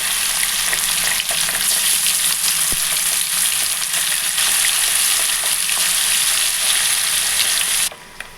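Snakehead murrel (korramenu) fish pieces frying in oil in a pan, a loud, dense, steady sizzle lasting several seconds before cutting off abruptly near the end.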